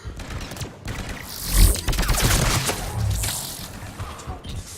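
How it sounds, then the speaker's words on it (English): Sniper rifle gunfire in the Mass Effect 3 multiplayer video game, a loud crack with heavy low boom followed by a dense spread of clattering impacts and battle noise lasting several seconds. "I'm using a new sniper rifle and I'm trying to get used to the recoil"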